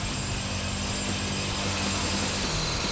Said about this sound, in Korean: 기계 송곳을 이용해서 바닥을 뚫는다.